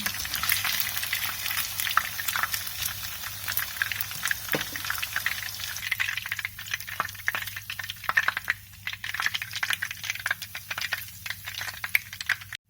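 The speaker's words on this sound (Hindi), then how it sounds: "बाकी की मछली को भी इसी तरह से फ्राई कर लेंगे" Steady, continuous crackling and sizzling of fish frying in hot oil, close and fairly loud, with a few small pops and stirring noises and no talking.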